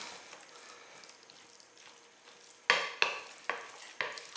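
Stuffed pepper filling with canned liquid is mixed by hand in a bowl, soft wet squishing that builds into several sharp, rhythmic squelching strokes toward the end, close and without talk.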